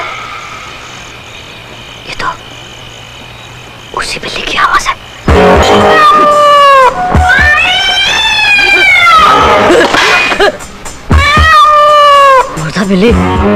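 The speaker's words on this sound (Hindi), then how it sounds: "ये तो उसी बिल्ली की आवाज है।" A cat meows and caterwauls in a horror film, drawn-out wavering yowls that rise and fall, loud and close, with eerie background ambience and brief earlier noises.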